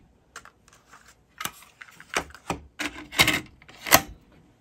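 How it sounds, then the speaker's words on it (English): A JVC Victor DD-99 cassette deck's transport starting demo tape playback, a close series of sharp mechanical clicks and clunks spaced irregularly over quiet background. "We're going to try playing my demo tape first."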